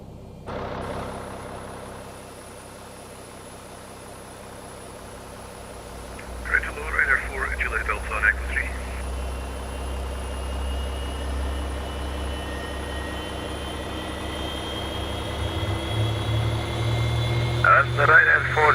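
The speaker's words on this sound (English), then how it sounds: "starting engine number 2." The engine of a Boeing 737 in X-Plane 11 spools up with a rising whine and a low, building rumble. Speech and a radio-like voice are heard over the engine sound.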